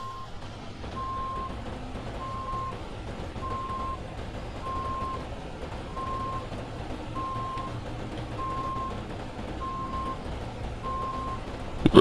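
Steady reversing beeps from a stuck truck in SnowRunner, repeating at an even rhythm over a low, constant engine rumble. The beeps are moderately loud and continue for the whole stretch, with no one talking.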